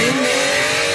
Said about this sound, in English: the M120 with the BMW M5 header sounded horrible